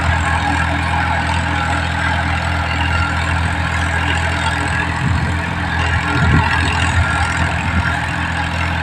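A Swaraj tractor ploughs a field more than a foot deep, its engine a steady, loud low drone that holds throughout, with a slight rough surge near the end.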